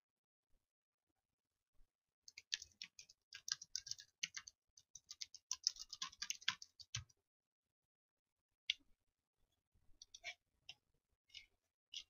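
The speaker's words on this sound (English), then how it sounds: "and type in the second header" Computer keyboard typing text into a Word document header: bursts of close, crisp key clicks in quick irregular runs, a pause, then a few scattered taps, quiet and alone.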